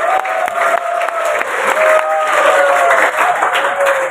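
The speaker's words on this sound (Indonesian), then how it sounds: "Tepuk tangan buat SMK 1." Crowd applause with some cheering for vocational high school students at a Bank Indonesia event in Cirebon, loud sustained clapping with voices mixed in throughout.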